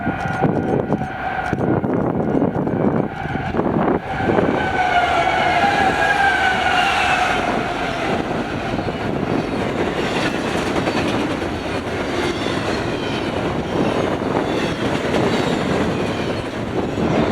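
A freight train led by a GE AC6000 locomotive passes at high speed, a loud, continuous roar of traction motors and rolling wagons with rhythmic clickety-clack throughout, and no voices.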